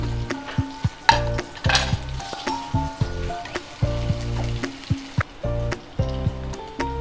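Chopped onion and green chilli fry in a pan with steady close sizzling, broken by repeated clinks and scrapes of a spatula stirring throughout.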